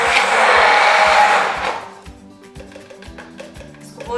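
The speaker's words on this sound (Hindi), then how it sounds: "तो मैंने इसको इसमें कर लिया स्टिक ब्लेंडर से" A stick blender whirs loudly through orange juice for about a second and a half, then cuts off, leaving a steady rhythmic mechanical hum with clicks underneath.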